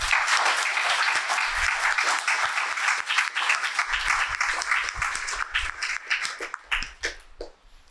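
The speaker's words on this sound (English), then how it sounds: "So please join me in giving him a special round of applause." Sustained applause from a commencement audience at a contemplative studies departmental ceremony, a dense wash of many hands clapping loudly and evenly, thinning toward the end.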